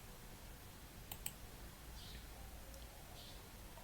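A couple of quick, faint computer mouse clicks land close together in a quiet room, followed later by a softer single click, over a low hum of background noise.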